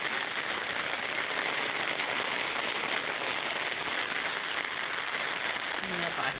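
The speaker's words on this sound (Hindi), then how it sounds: "अभी भी बारिश चल रहा है।" Steady, dense hiss of heavy rain falling continuously near a flooding village river, a broad even wash without breaks, with faint voices low in the background.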